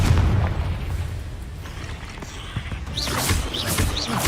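A blasting-spell explosion from Hogwarts Legacy lands as a deep booming burst, followed by a duller rumble and bright crackling debris sounds near the end.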